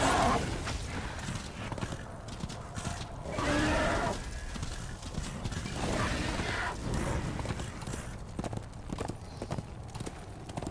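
Horse hooves clip-clop in steady rhythm in the video game Darksiders II, continuing through the whole stretch with occasional whinnies and mechanical clatter under the game's sound.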